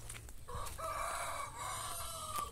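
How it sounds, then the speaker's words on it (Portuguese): A rooster crows once at moderate distance, a drawn-out cock-a-doodle-doo rising and holding over a faint low background hum, with no talk. "E o galo continua a cantar."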